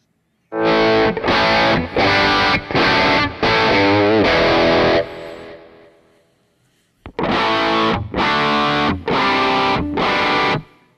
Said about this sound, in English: this is now with the easy reverb, so the effects change